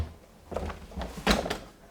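A tumble dryer door is swung shut with a pair of sneakers tied to it, making two close thumping knocks about three quarters of a second apart, the second louder, against a quiet room.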